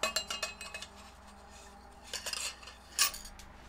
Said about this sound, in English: Now we're ready to insert the inner tube into the outer tube.